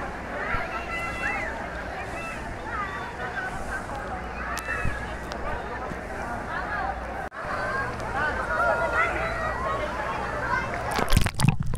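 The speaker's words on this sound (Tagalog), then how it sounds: "Nagluluwa ng tubig, doon ang galing yung wave." Resort wave pool spitting out water to make waves at Villa Alfredo's Resort in Pampanga, a sloshing, churning wash of water under nearby crowd chatter and voices, ending in a burst of splashing.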